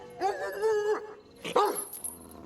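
A dog gives two loud, close barks about a second apart, each with a drawn-out, whining tone, in a dramatized scene from a television series.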